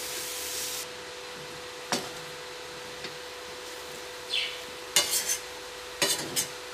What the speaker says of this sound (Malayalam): നമുക്ക് തീ നന്നായിട്ട് കുറച്ചിട്ടിട്ട് ഇറച്ചിനെ നന്നായിട്ടൊന്ന് വറുക്കാം.